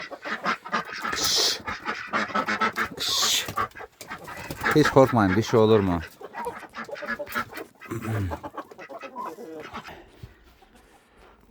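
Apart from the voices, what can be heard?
ducks quacking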